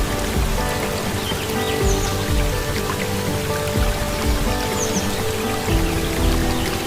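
The Cascata del Mulino waterfall at the Saturnia thermal springs in Italy gives a loud, steady rush of falling water, an unbroken roar with faint bird calls now and then.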